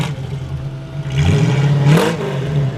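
A 1936 Ford Model 68 stakebed's engine revs up through its dual exhaust, rising in pitch to a loud peak and settling back to a steady rumble, close and without talk.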